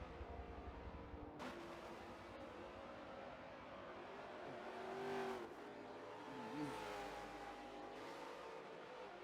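Race cars roar around the Circuit of the Americas in Forza 7, engines droning and shifting pitch as they accelerate and brake through corners, fairly quiet with no voices.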